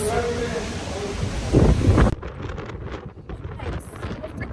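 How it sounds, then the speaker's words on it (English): Strong outdoor wind in Mexico buffets the microphone with a heavy, roaring rush that surges and then drops to gustier, intermittent blasts close by. "It's freaking windy."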